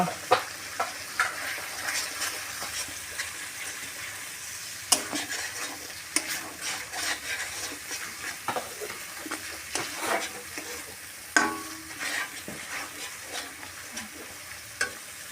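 Chicken being mixed and fried in a pan, a continuous close sizzle broken by frequent scraping stir strokes and occasional sharper utensil knocks, with no talking.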